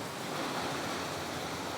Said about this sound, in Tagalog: Yan, yung mga alon na yan, diyan sila.